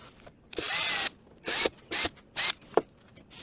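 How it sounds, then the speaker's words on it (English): A power drill whirs in several short bursts while drilling holes in a carbon fiber front splitter for an Audi TTS, one longer run followed by three brief ones, close up with clicks between. "I'm going to attempt at, you know, drilling these holes out now"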